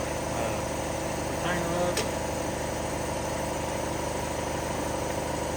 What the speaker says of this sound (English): my compressor's kicked on there